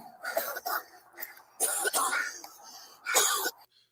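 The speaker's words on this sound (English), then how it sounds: "You see, they're coughing." Several people cough and clear their throats in harsh bursts, some close and loud, during a police encounter, with short pauses between fits and faint talking underneath.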